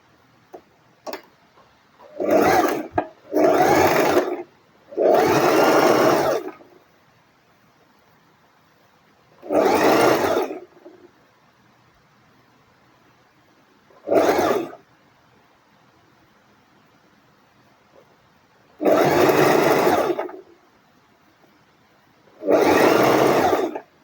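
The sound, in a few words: sewing machine stitching a gown seam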